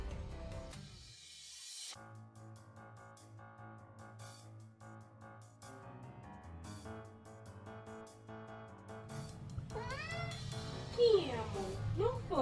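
A cat meows several times near the end, rising and falling wails over a steady background hum, loud and close.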